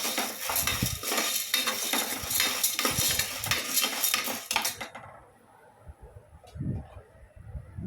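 Ragi mudde being stirred in a pan, a steady scraping and clinking of a utensil against metal for several seconds, then quieter scattered knocks, close and without talk.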